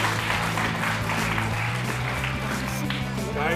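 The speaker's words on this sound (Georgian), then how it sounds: "200 ლარი გადავცეთ ადამიანს დამსახურებული აპლოდისმენტების თანხლებით" A studio audience on a Georgian television game show applauds in a steady, full burst of clapping that holds at an even level throughout, with a faint voice underneath.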